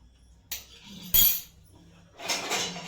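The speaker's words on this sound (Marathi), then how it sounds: "आणि पुन्हा छान असं मिक्स करून घ्यायचंय" A spoon stirs a milk and jaggery mixture, spiced with cardamom and nutmeg, in a pressure cooker pot, making a few faint metallic clinks and scrapes separated by quiet pauses.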